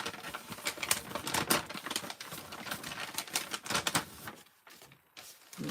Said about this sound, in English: this is regular paper.